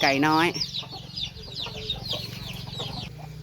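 Chickens, including a mother hen with chicks, cluck repeatedly at close range on a farm while a person talks.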